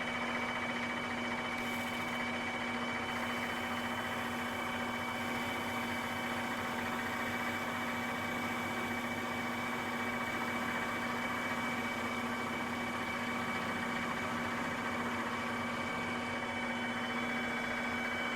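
A machine runs steadily in high gear at 900 RPM, giving a continuous loud mechanical drone with a strong, unchanging tonal hum and no voices over it.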